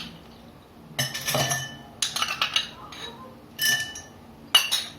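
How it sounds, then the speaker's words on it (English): Several ice cubes drop into a glass for Dalgona coffee, each landing as a sharp glassy clink with a short rattle, in four or five separate bursts spaced by quiet pauses. "Take a glass, add few ice cubes,"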